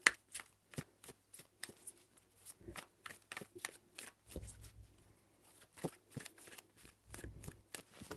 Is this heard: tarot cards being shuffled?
yes